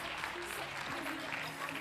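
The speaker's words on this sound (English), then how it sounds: "Round of applause for all of them." Festival crowd applause for performers, a dense continuous wash of many hands clapping at close range, steady throughout with a faint voice murmuring underneath.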